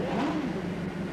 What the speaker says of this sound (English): Mr. Motivator, rev your engine